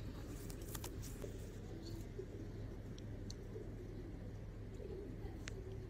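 Pigeons coo softly and repeatedly, kept in a loft or coop, under a low steady hum of background noise with faint chirps and a distant car.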